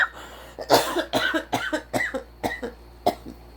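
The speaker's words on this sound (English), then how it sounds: "I just had a coughing fit." A close, harsh coughing fit: a rapid series of about eight or nine sharp coughs in uneven bursts, with no talking.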